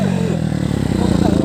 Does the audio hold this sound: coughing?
no